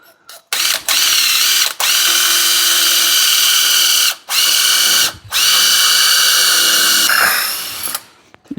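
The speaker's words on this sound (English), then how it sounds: "I'm going to drill straight down at a 90-degree angle to that." A power drill bores straight down into a metal shaft beside its keyway on a 1000cc golf cart build, whining loudly and steadily in long bursts with several brief pauses, close up and with no talking.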